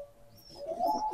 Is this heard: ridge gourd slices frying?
no